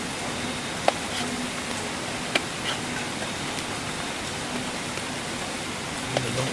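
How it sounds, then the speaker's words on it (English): Steady rain patters on a tarp in the woods, a dense, even wash of drops with a few sharper taps landing close by, and no one speaking. "it has been a rainy day all day. I'm cooking underneath the tarp."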